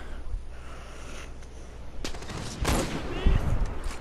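Gunfire in Far Cry 4, a run of sharp shots that starts sparse and builds into a loud, dense burst of rapid fire.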